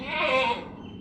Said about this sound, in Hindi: माशाल्लाह से काफ़ी हाइट वाली बकरी है, बहुत ऊंची हाइट की बकरी है।